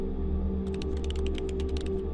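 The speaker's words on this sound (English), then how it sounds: "Sarah's typing." Rapid keyboard typing from the video game S.P.L.I.T, a quick patter of clicky keystrokes over a steady low hum and game ambience, no talk.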